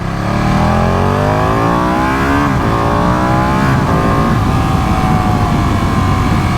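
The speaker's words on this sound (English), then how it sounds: "He's got a race exhaust fitted, so it's the Termagoni exhaust system fitted, so it's not standard exhaust, and it sounds fantastic." A Ducati Panigale 959 motorcycle with a Termignoni race exhaust revs hard, its loud, close engine note rising and falling through repeated sweeps with no one speaking.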